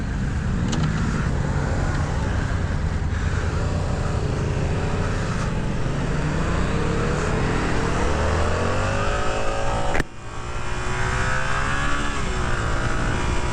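A 2024 Yamaha YZF R1 SP sport motorcycle engine climbs in pitch under hard acceleration while being ridden. The strong, continuous roar rises through the gears with a brief dip around the tenth second.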